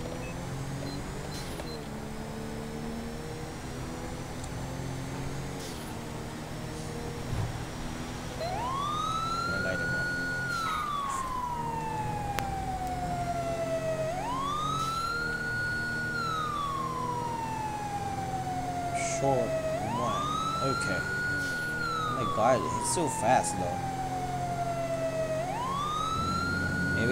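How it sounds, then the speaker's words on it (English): A police car siren in GTA V wails in repeated rising-and-falling sweeps, steady and moderately loud, with a brief spoken remark and scattered clicks. "Maybe he can hear our siren now."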